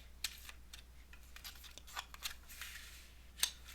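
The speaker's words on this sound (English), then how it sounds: "I'm going to shuffle some cards. This is the Gateway card deck" Gateway tarot deck being shuffled by hand, a quiet run of soft card riffles and taps with one sharper snap near the end, fairly faint and without talk.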